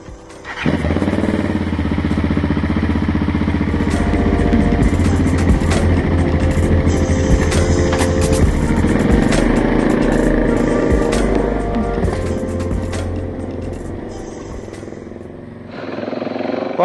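A loaded touring motorcycle's engine runs steadily and loudly as the rider sets off on a road trip along the Great Ocean Road, a continuous rumble holding nearly throughout before dipping briefly near the end.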